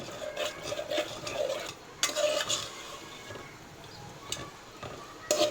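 A spoon repeatedly scrapes and clinks against a cooking pot while layer chicken is stirred, with soft irregular scraping strokes and occasional sharper metallic knocks over a faint background.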